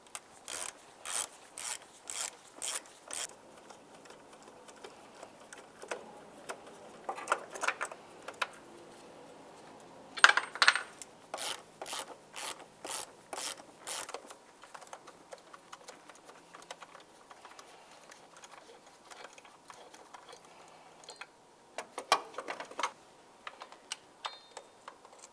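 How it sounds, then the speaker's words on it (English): A 10 mm ratchet with an extension loosens intake manifold bolts on a 2010-2013 Ford Transit Connect. It gives bursts of quick, close metallic clicking separated by short pauses, with no talking. "To remove these, use a 10 millimeter with the proper extension."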